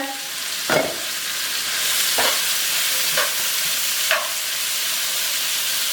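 Onions and a parsley mix frying in hot oil, a loud continuous sizzle with a few scraping stirs of the spoon, close up, no talk.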